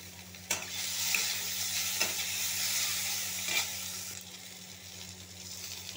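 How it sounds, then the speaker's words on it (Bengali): Okra and green chillies sizzle with potatoes in a hot pan, a steady close-up hiss of frying oil broken by a few sharp clicks of stirring, with a low electrical hum underneath. "এবার আমি এর মধ্যে ঢেঁড়স, কাঁচা লঙ্কা সব দিয়ে দিলাম।"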